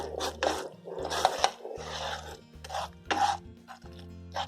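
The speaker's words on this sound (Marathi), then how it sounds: "चांगलं कमी आचमध्ये भा भाजून घ्यायचं गॅस खूप कमी ठेवायचा" A spoon stirs barnyard millet (bhagar) roasting dry in a pan on very low heat, making close, rhythmic scraping and rustling strokes in short repeated bursts.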